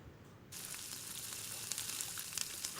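Hot oil tempering with curry leaves and chili powder bursts into a loud, steady sizzle as it is poured into a beetroot curry, crackling close up with a few sharp pops and no voices.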